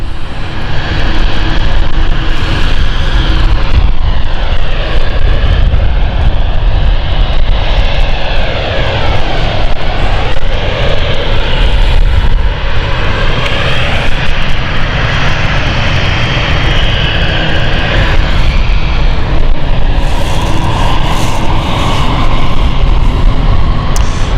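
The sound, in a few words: Berlin flight airplane taxiing at London City airport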